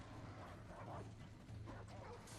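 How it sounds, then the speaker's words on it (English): Dog barks and yips sound from a creature in the video game Remnant, fairly faint and mixed into a dense game soundscape with low rumble and mechanical noise. "Oh, there's a dog too."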